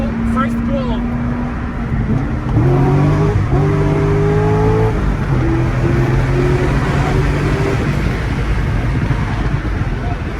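A Corvette Z06 with an LS7 engine accelerating hard onto a highway: a loud, droning engine note that climbs in pitch through the revs, with a constant roar of wind and road underneath.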